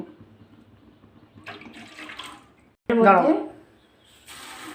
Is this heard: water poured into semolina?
yes